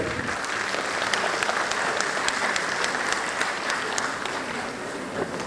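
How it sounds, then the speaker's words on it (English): A crowd applauds the principal at the R G Kar medical college convocation, a dense, steady wash of many hands clapping at even loudness for several seconds with no speech. "Big round of applause for our respected principal, sir."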